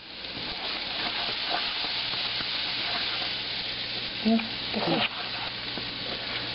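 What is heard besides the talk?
flour-coated fish frying in a pan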